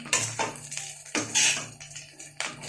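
Curry leaves dry-roasted and stirred in a pan without oil, giving repeated rustling, scraping bursts of moderate loudness, with no talk.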